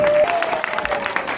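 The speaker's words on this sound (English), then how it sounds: "just give them a little round of applause" Brief burst of audience applause at Bellehouston Glasgow Comic Con, a crowd clapping steadily and fairly close, with a faint held tone at the start.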